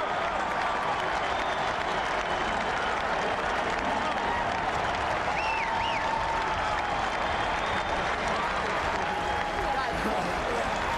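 A huge home crowd at Beaver Stadium roars and applauds steadily through a Penn State college football game against Miami, a broad sustained wash of cheering with a few whistles on top and no breaks.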